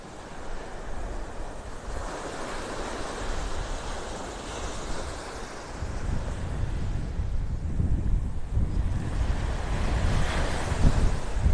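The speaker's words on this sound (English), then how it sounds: "that wind is blowing" Heavy wind buffets the microphone in a constant low roar on a beach in North Naples, Florida, with waves washing in the background and gusts growing stronger in the second half.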